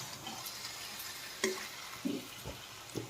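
King fish (vanjaram) curry being gently stirred in a pot, a low steady sizzle with a few soft scrapes and knocks of the spoon scattered across the stretch, close by and with no talk.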